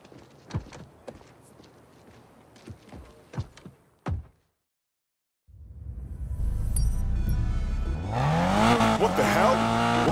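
A car in the racing video game Need for Speed Payback starts up and drives off, its engine building to a loud, rising roar with tire noise after a stretch of scattered thuds and a brief silence.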